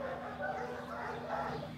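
Dogs at a small animal shelter bark and yip in a lively, overlapping chorus, moderately close, with other background sounds mixed in.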